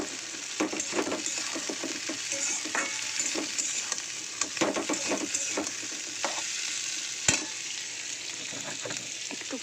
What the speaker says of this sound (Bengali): এরপরে কেটে রাখা পেঁয়াজ ও ক্যাপসিকামটা দিয়ে দেবো।